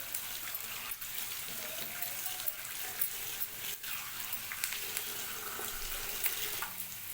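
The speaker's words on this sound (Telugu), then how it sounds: "ఇలా ఒక రెండు మూడు సార్లు కడుగుకుంటే మనకి సన్నది రాయిందా కానీ మనకు వెళ్ళిపోతుంది" Leafy greens are washed in water, rinsed two or three times to remove fine soil, with continuous nearby splashing and running water and no talking.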